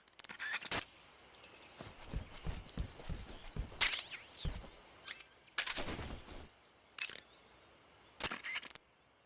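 Assault rifle fire in Metal Gear Solid Delta: Snake Eater, heard as several sharp, loud bursts separated by short pauses over a quiet background.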